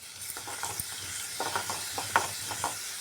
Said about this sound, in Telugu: ఇగో జీలకర్ర ఆవాలు నేను పోపుకి వేసిన కదా